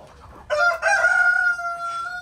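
A rooster crows once, close and loud, its drawn-out call trailing off over a faint background of farmyard noise.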